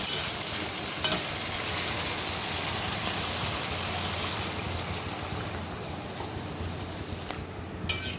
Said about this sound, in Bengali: তো আমি এর মধ্যে এখন জল দেব।